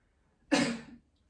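A single short, forceful cough, clear and close, with silence before and after.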